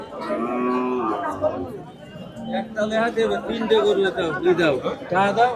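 Cattle mooing repeatedly at close range amid the chatter and murmur of people at a busy livestock market for the Qurbani festival, where cows are sold.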